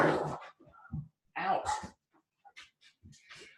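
Dogs at play make short whimpers, huffs and panting breaths in scattered bursts, close and fairly loud, with quiet gaps between.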